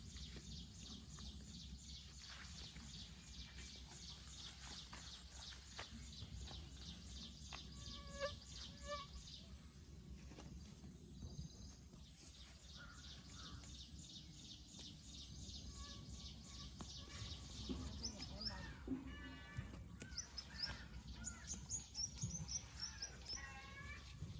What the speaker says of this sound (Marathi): मोर ओरडतात बघ